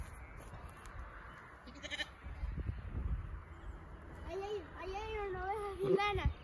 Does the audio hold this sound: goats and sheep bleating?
yes